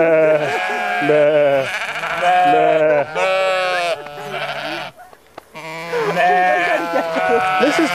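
Several sheep in Pausitz, Germany bleat loudly and close by, their wavering cries overlapping almost without pause, with a brief lull midway.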